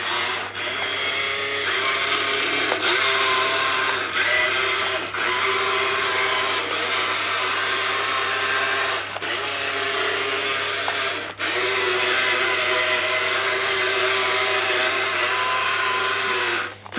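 A radio-controlled Doctor Who Dalek toy with tank steering whirs steadily as its motors drive and turn it. The motor pitch shifts with each move, broken by short clicks and pauses, loud and close throughout.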